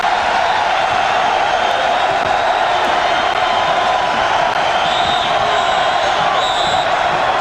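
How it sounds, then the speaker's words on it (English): A packed arena crowd at a 1986 Villanova versus Maryland college basketball game keeps up a loud, sustained roar with scattered whoops and whistles throughout. "Listen to this crowd."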